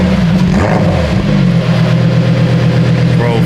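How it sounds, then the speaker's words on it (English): Loud V10 car engine with a carbon-heavy build revving and idling close by, a steady low rumble with a brief rise in pitch early on, while people talk over it. "V10 is no freaking joke, guys. That just sounds ridiculous."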